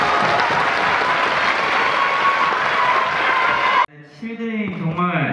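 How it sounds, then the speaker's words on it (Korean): A large concert crowd applauds at a concert, loud dense clapping and cheering that cuts off abruptly, followed by a voice speaking. "다 같이 박수 쳤으면 좋겠습니다"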